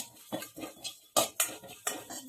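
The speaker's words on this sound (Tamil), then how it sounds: "இப்படி கைவிடாமல் வறுத்துக்கோங்க, இல்லைன்னா ஒன்று கருவிடும்" Cumin seeds dry-roasted in a pan and stirred without pause, quick metallic scrapes and clinks of a spoon against the pan in an uneven rhythm, close and fairly quiet, no talk.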